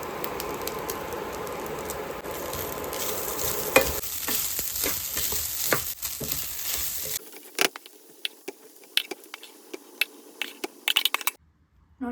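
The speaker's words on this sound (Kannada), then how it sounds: "ನೋಡಿ, ಇವಾಗ ಚೆನ್ನಾಗಿ ಮಿಕ್ಸ್ ಮಾಡ್ಕೊತಿದ್ದೀನಿ ನಾನು." Cooked rice is stirred with puliyogare masala in a pan, a close scraping and soft sizzle at first, then sparser clinks and scrapes before falling silent.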